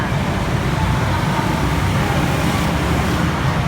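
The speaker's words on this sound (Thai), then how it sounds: "เสียงรถยนต์เสียงรถจักรยานยนต์ก็เข้ามา" Cars and motorcycles passing through the Betong Mongkollit road tunnel, a loud, steady, reverberant roar of traffic that continues without a break.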